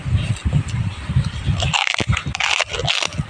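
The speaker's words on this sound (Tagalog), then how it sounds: "Narinig mo ba yung tunog ng chicharon?" Crisp chicharon crunched while eating, a run of sharp, close crackling bites over a low rumble of chewing, bursting repeatedly in the second half.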